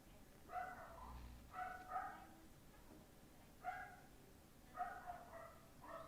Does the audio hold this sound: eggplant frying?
no